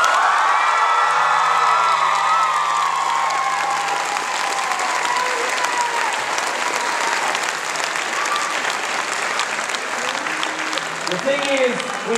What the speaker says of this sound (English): a round of applause for every cosplayer